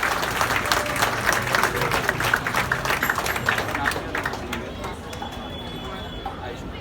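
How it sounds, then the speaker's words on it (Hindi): An audience claps after a Ram Navami skit staged at an ISKCON temple, with dense applause that stays fairly loud before thinning out toward the end. "आप सब लोग एक बार तालियां बजा के इन लोगों का प्रोत्साहन बढ़ा सकते हैं।"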